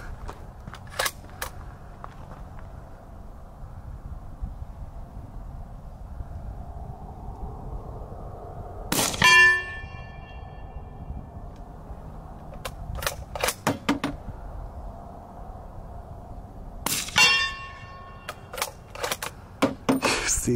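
A Q The Fix rifle firing 8.6 Blackout rounds, with sharp, widely spaced single shots and clusters of quick shots ringing out over a quiet outdoor background.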